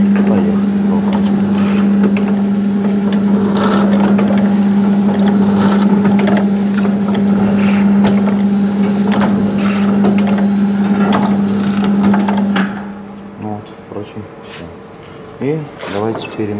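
An automatic dosing and capping machine drones with a steady loud hum and a mechanical buzz, then cuts to quieter clicks and movement while someone talks over it.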